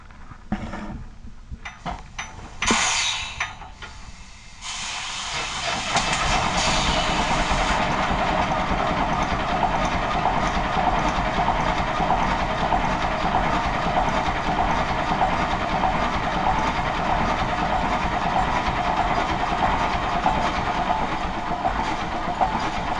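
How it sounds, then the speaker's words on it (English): A large old 200-horsepower Atlas marine engine on a tug sputters, then settles into a steady, loud, rhythmic chugging, maximum 324 RPM, that runs on continuously. "The Atlas engine puts out 200 horsepower at a maximum of 324 RPM."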